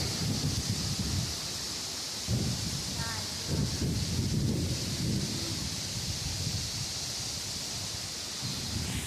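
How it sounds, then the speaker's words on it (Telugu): Strong cyclone wind roars steadily on a rooftop, rustling through leaves close to the microphone, with a voice speaking briefly beneath it. "గాలి"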